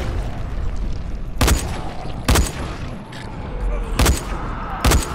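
Gunfire in the video game Dying Light: four sharp, loud shots spaced irregularly about a second apart, each a hard crack over a steady rumbling game background, with no talking.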